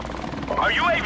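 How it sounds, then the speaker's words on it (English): An enemy helicopter in the online multiplayer game Modern Warfare Remastered whirs with a steady rotor drone, while a voice talks over it and a rising whine swells near the end. "We got an enemy helicopter."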